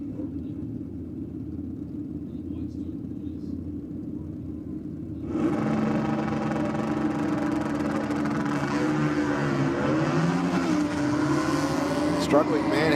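Suzuki and Kawasaki drag-racing motorcycles at Sydney Dragway rumble at idle before one engine roars up hard, its pitch climbing and shifting as it pulls away, under a commentator's talk.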